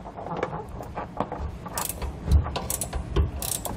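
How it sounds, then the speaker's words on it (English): A wrench loosens nuts on a Dexter electric trailer brake, a close run of quick ratcheting clicks and metallic rattles with a couple of heavier knocks. "so you may need to use a wrench"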